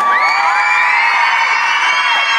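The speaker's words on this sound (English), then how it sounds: "Give yourselves a round of applause." A concert crowd cheering and screaming in a sustained, loud wall of high-pitched whoops and yells, dense and continuous with no gaps.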